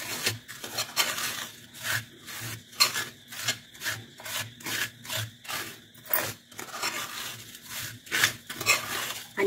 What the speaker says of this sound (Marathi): आपण कंटिन्यू साखर हलवत राहायचं।